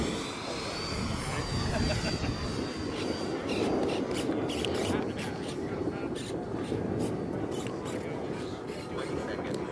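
A radio-controlled electric model F-18 jet makes a low, slow pass at an electric model flying festival in Arizona, its ducted-fan whine steady and fairly loud, with a rising then falling tone, over rough wind and outdoor background noise.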